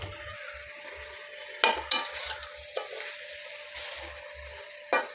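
Malabar spinach stirred into spices frying in oil, a steady sizzle broken by several sharp scraping clatters of a spatula against the pan, close and without talk.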